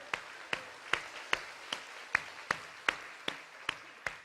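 A church congregation claps in steady unison, about a dozen sharp, evenly spaced beats at a brisk rhythm, fairly close and with no voices over them.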